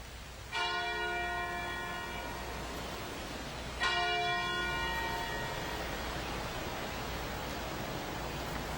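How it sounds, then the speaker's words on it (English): Two resonant church bell strikes ring out about three seconds apart, each with a bright ringing tone that decays slowly over a low steady hum. "Church bells across the country are ringing this morning to honor longtime Georgia Congressman John Lewis"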